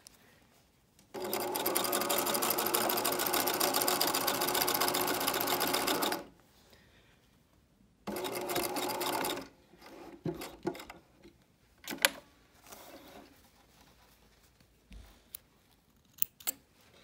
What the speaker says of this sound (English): So if your machine has an automatic bar tack, you're lucky.